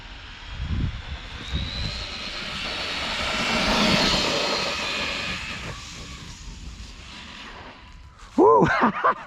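A Losi LMT Grave Digger RC monster truck, a 2021 model, speeds across a debris-strewn driveway, its electric motor whining and rising in pitch as it gains speed. An excited voice cries out near the end.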